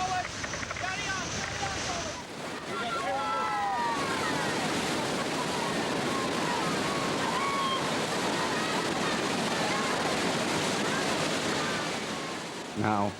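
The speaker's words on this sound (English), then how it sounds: "a small rubber raft when it's being tossed from wave to wave in the grip of a ferocious river like" Rough white-water waves of the Brahmaputra river churn and roar loudly and continuously around a small rubber raft being tossed about, with wind buffeting the microphone and voices calling out early on.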